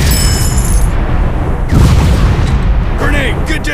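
In an FPS robot shooter game, a grenade explodes in a loud, booming blast with rumbling debris. Gunfire and a short voice follow amid the noise of battle.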